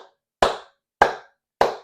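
Three crisp, evenly spaced hand claps at a steady metronome tempo of 100 in a music lesson, each sharp and close with a short decay and silence in between.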